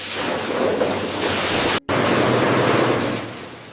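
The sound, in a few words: rotating drum washers spraying high-pressure water on carrots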